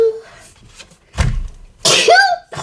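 A woman indoors gives one sharp, loud sneeze that bursts out abruptly after a brief breathy lead-in, followed by a drawn-out voiced exclamation.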